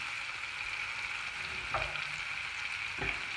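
Garlic butter melting and sizzling with mushrooms in a pan, a steady close crackling hiss with a couple of soft stirring scrapes.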